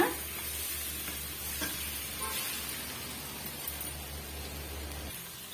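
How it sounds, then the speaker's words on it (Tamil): Brinjal pieces sauté in a pan over a medium flame while a spoon stirs them now and then, giving a soft, continuous sizzle with faint scraping and a low steady hum underneath, fairly quiet and close. "சேர்த்துட்டு கத்திரிக்காயுமே ஒரு 2 நிமிஷம் நல்லா வதங்கி வரட்டுங்க"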